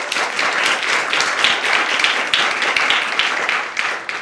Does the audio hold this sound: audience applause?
yes